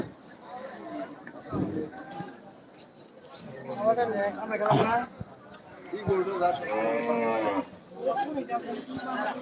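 A busy cattle market in Kaitla: cattle low and moo among chattering voices, with people talking nearby throughout and occasional thumps.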